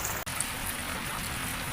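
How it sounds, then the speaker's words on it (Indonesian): Steady rain falling outdoors, a continuous broadband hiss of drops on surfaces at moderate level, with one brief dropout near the start and no voices. "Sekarang hujan"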